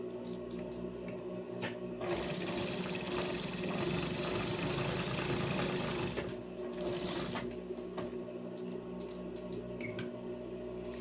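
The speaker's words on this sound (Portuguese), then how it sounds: "Faço mesmo pesponto de um pezinho de máquina." A sewing machine with a standard presser foot topstitches a jacket piece, whirring steadily and loudly across the whole stretch with short pauses and restarts.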